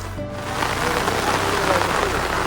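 Steady rain falls on a rice farm in the Konkan during paddy planting, a dense, even hiss of drops that holds for the whole stretch with no break.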